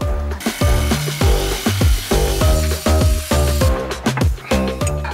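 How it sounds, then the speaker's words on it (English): An angle grinder cuts out a stuck screw aboard a sailboat, loud and close, in a string of repeated pulsing grinding strokes, each rising and falling in pitch with the pressure on the metal. "There's no way to unscrew it, so I had to friggin' angle grinder it out."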